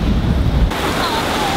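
Loud rushing water and wind noise wash over the microphone as ocean surf hits a motor boat, a heavy roar of surf that shifts to a hissing spray.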